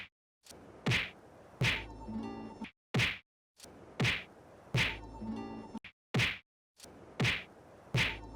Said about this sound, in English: this punching sound in the menu is so needlessly louder than anything else in the game